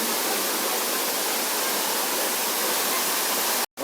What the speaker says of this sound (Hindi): वाटरफॉल रामोजी फिल्म सिटी के अंदर वाटरफॉल